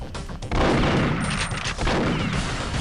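Dense gunfire in the Nintendo 64 game Perfect Dark during the dataDyne extraction mission, a loud continuous barrage of rapid shots with no talk.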